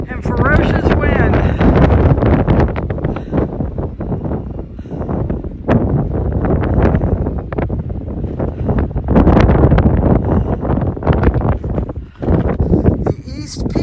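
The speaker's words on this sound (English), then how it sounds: "Gorgeous view up here and ferocious wind." Ferocious wind roars across the east peak of Baldpate on the Appalachian Trail, a loud, continuous buffeting against the microphone with gusts swelling and easing throughout.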